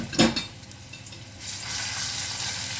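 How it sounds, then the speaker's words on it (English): Garlic and ginger sizzle in oil in a pan, a sharp clatter at the start giving way to a steady, close hiss of frying that builds and holds, with no talk. "We're going to cook this garlic and ginger about 30 seconds."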